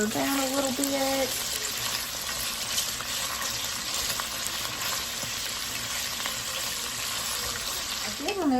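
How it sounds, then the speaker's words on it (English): Bacon frying and rendering its fat in a pan, a constant dense sizzle and spatter at close range, steady and loud throughout with a faint background voice at times. "our bacon is starting to cook and render down a little bit."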